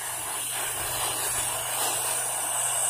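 Pressure washer spraying the side of a house, a loud continuous high hiss of water jet with a low pump drone beneath, steady and close, no talking.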